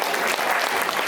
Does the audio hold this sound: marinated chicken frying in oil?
no